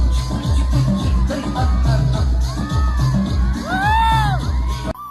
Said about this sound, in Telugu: ప్రతి పర్ఫార్మెన్స్ కి అరుపులు, కేకలు ఎదిరిపోయింది భయ్యా